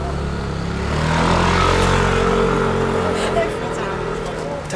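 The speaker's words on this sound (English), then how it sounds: "whenever I turn this camera on, a bus or a lorry sort of cranks past me. It makes a lot of noise." A heavy bus or lorry cranking past on a windy Istanbul street, a loud close engine rumble swelling and fading over several seconds.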